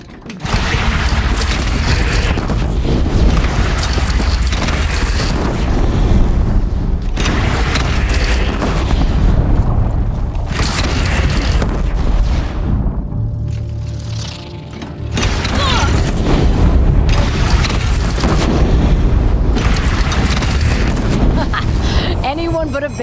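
Heavy booming cannon fire from bandits in the video game Horizon Zero Dawn keeps going without a break, mixed with loud battle noise and in-game voices.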